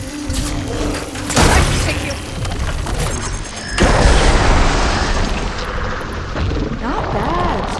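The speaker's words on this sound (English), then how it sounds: "See those glowing crystals? It's one hit to detonate." Glowing crystals detonate in Horizon Forbidden West as heavy booms and rumbling blasts, with loud bursts near the start and middle and debris noise trailing off, while voices talk over the action.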